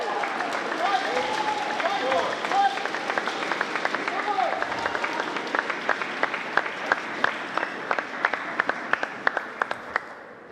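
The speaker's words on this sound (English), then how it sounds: "It is a lively crowd here at the Broward County Table Tennis Club in Hollywood, Florida." A lively crowd applauds and cheers at the Broward County Table Tennis Club in Hollywood, Florida, during a college table tennis match, with sharp ball and paddle clicks cutting through the steady clapping while a commentator talks over it.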